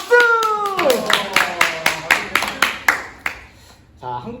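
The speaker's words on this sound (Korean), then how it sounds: "박수!" Scattered clapping from a small studio audience on a quiz show, a run of sharp distinct claps close by that thins out and stops within a few seconds. A voice is heard just before and briefly after.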